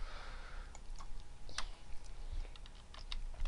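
Someone types quickly on a computer keyboard while building an Excel formula, a close, irregular run of light clicky keystrokes with a few sharper taps, alone without speech.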